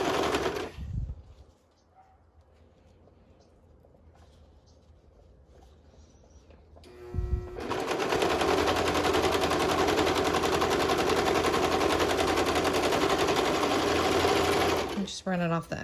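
A serger sewing along fabric edges for a dance set, starting with a short burst, a quiet pause, then a long, steady, fast mechanical whirring run that stops abruptly at the end.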